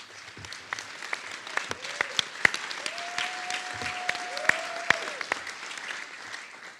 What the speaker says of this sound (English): I want to give big cheer to my 2 team leaders, Tabby and Jackie.